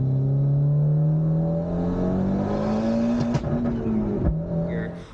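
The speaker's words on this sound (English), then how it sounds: "you can hear the car making that noise, which is kind of like the air surging back into the turbo" Tuned Genesis Coupe turbo engine running on a dyno with a blocked blow-off valve, a loud sustained drone rising slightly in pitch, then sharp fluttering bursts of air surging back into the turbo near the end as the revs drop away.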